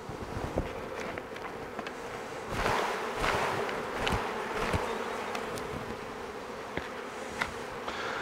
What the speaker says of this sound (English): shake off the majority of these bees so that they're shaken onto the top of the top bars of their new home